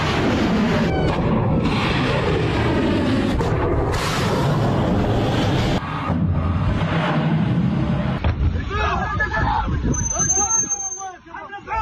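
Deep booms and rumbling blasts of explosions across Tehran sound amid loud crowd babble and shouting, with traffic-like noise and commotion throughout.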